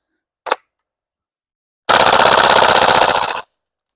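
Airsoft gas blowback HK UMP45 fires one sharp shot, then a loud rapid full-auto burst of about a second and a half, close and with no talk over it.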